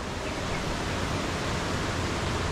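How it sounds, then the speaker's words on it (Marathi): A monsoon waterfall at Bhandardara roars as a loud, steady broadband rush of falling water, close and unbroken, with no voices. "पाहण्यासारखा आहे हा धबधबा."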